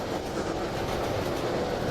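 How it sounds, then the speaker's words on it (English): A train in a video game rolls along the tracks with a dense, continuous rumble and clatter that stays loud and steady throughout. "Oh, this train going to hell now."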